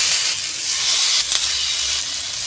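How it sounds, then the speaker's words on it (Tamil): Fish pieces frying in oil on an iron griddle, a loud, steady sizzling hiss with a brief sharper flare midway, no voices over it. "மீன் துண்டுகளை போடலாம்"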